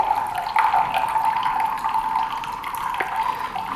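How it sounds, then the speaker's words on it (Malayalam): Filtered water streams from a pressed filter bottle down into a glass, a steady continuous trickle that stays close and fairly loud for its whole length, with a few small splashes and no voices. "ഇത് ഫിൽട്ടറായ വെള്ളമാണ് വരുന്നത്."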